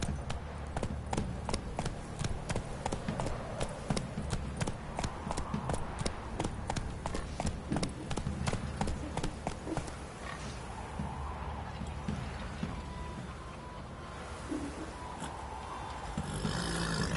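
Roach the horse gallops in The Witcher 3 with rapid, evenly spaced hoofbeats for about ten seconds, then slows to quieter, sparser steps under a low ambient bed.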